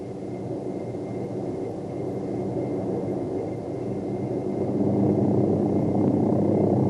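A military medevac helicopter doing a maximum performance takeoff sends out a loud, continuous rotor and engine roar that builds steadily in intensity, with no speech over it.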